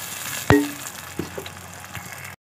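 Tomato paste made from two large tomatoes drops into frying ginger-garlic masala, a sharp thud and burst of sizzle followed by softer scrapes and spitting under a continuous fry, close up, ending abruptly; nobody speaks.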